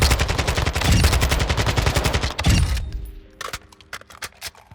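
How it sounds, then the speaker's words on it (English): Castoff 74U assault rifle in Modern Warfare II firing on the range: a dense, loud burst of rapid automatic shots for nearly three seconds, then a pause and a few scattered single clicks and shots. "Moving on to the firing range, we have the Castoff 74U."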